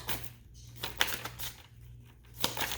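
Tarot cards being shuffled by hand, giving soft irregular riffling and patting bursts at close range, fairly quiet, with no talking over them.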